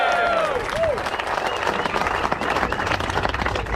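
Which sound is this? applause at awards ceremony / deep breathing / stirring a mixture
applause at awards ceremony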